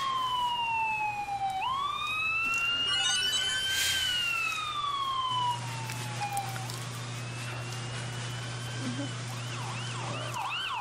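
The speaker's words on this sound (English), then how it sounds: "you can get your siren off while you're parked" An emergency vehicle siren in the video game Emergency 4 wails up and down in long sweeping tones, steady and fairly close, with a low engine hum underneath.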